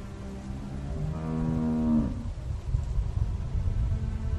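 A cow in The Walking Dead video game gives one drawn-out low moo that swells and then breaks off, heard close over a steady outdoor ambient background with no talking.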